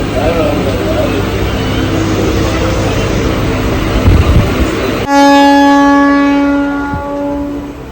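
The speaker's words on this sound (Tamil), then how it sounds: "ட்ரெயின் கிளம்பிடுச்சு" An electric train, the Sengkottai Express, departs, rumbling and clattering close by, then a loud sustained horn blares for about two seconds before fading.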